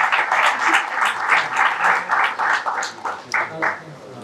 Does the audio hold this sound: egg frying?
no